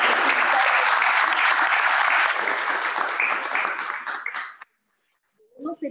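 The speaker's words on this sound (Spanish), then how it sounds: "aplaudir acá." Room applause after a public-health talk on water and watersheds, steady full clapping for over four seconds that stops abruptly, followed by brief speech.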